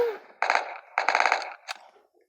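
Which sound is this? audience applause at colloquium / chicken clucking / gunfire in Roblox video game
gunfire in Roblox video game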